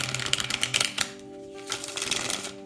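Tarot cards shuffled during a Virgo reading, giving rapid papery riffling and clicking in short bursts, fairly close and alone with no talk.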